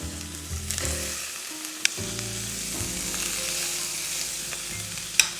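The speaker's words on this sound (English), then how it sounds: "Add the vegetable oil and place the ribs into the pan." Pork ribs sizzle in hot vegetable oil in a large skillet over medium heat, a steady close frying hiss with occasional sharp pops and crackles, no voices.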